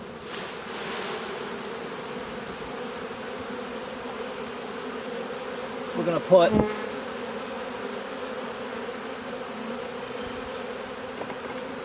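Honey bees hum steadily in a dense drone around a hive frame loaded with bees, with a brief handling knock midway and a few faint spoken words.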